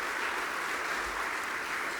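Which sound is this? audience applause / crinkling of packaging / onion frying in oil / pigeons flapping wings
audience applause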